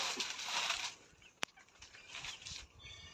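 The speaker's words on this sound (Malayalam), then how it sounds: "5 കോഴിക്കുട്ടികളുണ്ട് കേട്ടോ." A hen with five small chicks clucks softly close by outside a village hut in summer heat, with steady background hiss and one sharp click.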